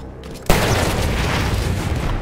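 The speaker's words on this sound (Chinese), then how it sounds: "这个爆炸威力好大" A heavy explosion in Battlefield 1 bursts in suddenly after a quiet moment, then rumbles and roars loudly and continuously with dense debris-like noise for the rest of the stretch.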